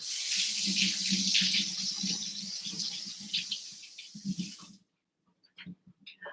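Potatoes being washed under a running kitchen tap, a steady loud rush of water with soft scrubbing knocks that stops abruptly near the end, followed by a few faint handling clicks.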